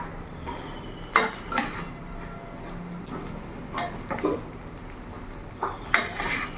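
A spatula scrapes and knocks against a pan while fried rice is stirred, giving sharp metallic clinks in irregular clusters over a faint background hiss, with no talk.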